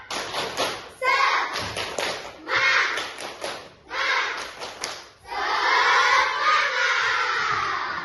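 Elementary classroom of children doing a rhythmic spirit clapping chant, loud group voices chanting in bursts with sharp claps and thumps, ending in a sustained shout.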